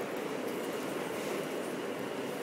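A train rolls steadily along the rails in a continuous, fairly loud rumble with a dense broadband roar, no voices over it.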